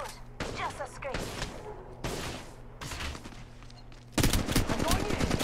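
Gunfire in the mobile battle royale Apex Legends Mobile: bursts of rapid automatic shots come in several separate volleys, then a louder, sustained burst near the end.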